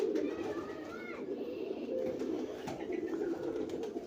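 A female teddy pigeon coos softly in a low, rolling murmur that continues throughout, close by with faint background rustle.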